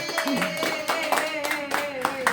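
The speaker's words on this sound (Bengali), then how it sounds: "এই এই হাততালি হবে তো" People clap hands during a cake cutting at a post-Eid get-together in a friend's home, with quick irregular claps mixed under lively talking voices.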